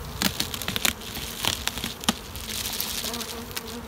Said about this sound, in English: these six frames are full of bees